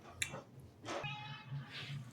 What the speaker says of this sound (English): Cat cameo.